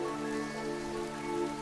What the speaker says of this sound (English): Vam and Taros followed Yim as she walked through the downpour.